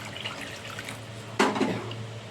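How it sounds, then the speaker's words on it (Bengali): Water pours into a pot of dal with salt, a short liquid splash and gush that follows a quieter stretch of faint kitchen sounds. "এর মধ্যে আমি দিয়ে দিচ্ছি এবার জল।"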